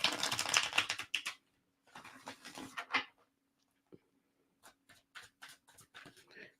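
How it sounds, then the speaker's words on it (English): Game of Thrones tarot cards being shuffled by hand in crisp, papery riffling bursts, the first dense and loud, then shorter flurries and scattered flicks with pauses between, close by with a faint voice briefly present. "One more shuffle."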